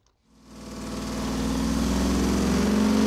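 Warmed-up Ford 460 V8 engine starting and running on an engine dyno with E3 spark plugs, swelling from silence into a steady, loud rumbling idle within the first half second.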